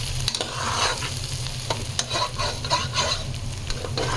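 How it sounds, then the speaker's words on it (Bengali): Lentils and pulao rice are stir-fried together in a pan for bhuna khichuri, with a steady low sizzle under repeated scraping and stirring strokes, close and moderately loud. "ডাল ভাজা হয়ে গেছে, পোলাওয়ের চাল দিয়ে দিয়েছি"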